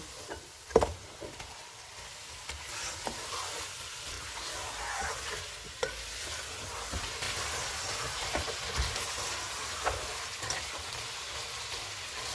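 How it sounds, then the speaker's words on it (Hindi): A kilo of beef sizzles and fries in a pan over a full flame, a steady, fairly faint hiss broken by occasional knocks and clicks of stirring. "एक किलो बीफ डालेंगे, चूल्हे को फुल रखेंगे और इसका कलर चेंज होने तक भूनेंगे।"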